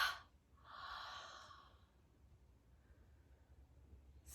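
Slow exhalations during a guided meditation, a soft airy breath near the start and a longer, fuller one after it, close and quiet against a faint steady hiss.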